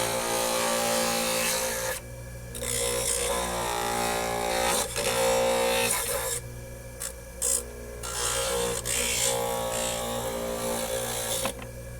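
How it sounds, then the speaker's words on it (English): A power tool cuts screws off an MG Newpress cartridge with a continuous loud mechanical whine, close up, broken by several brief drops and restarts. "I'm going to cut the screws off."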